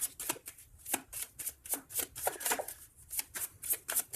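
Tarot cards are shuffled by hand in quick, close, rhythmic riffles, a dense run of crisp snaps and flutters with short pauses between, and no voice.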